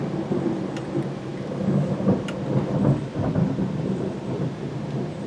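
Loud, continuous thunder rumbles and cracks from nearby lightning during a southeastern Pennsylvania thunderstorm, layered over steady rain with a few sharp crackles and no talking.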